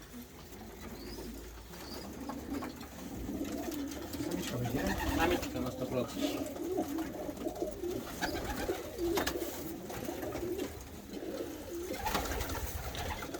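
Pigeons coo continuously in a low, throaty chorus close by, while people talk intermittently over the birds.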